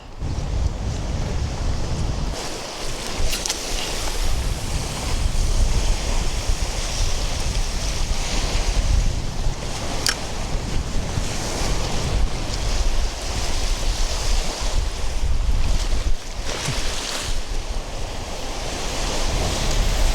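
Strong wind blows across a beach while waves break steadily on the shore, a continuous loud roar of surf and gusts with no talking.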